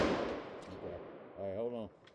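A single AR-15 rifle shot, a sharp crack with a short decaying tail, followed by a brief voice.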